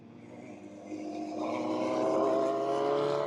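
A pace car laps the Homestead race track under caution during a FARA Race of Champions event, its engine a steady, continuous drone that swells a little louder and closer as it goes, with no talk over it.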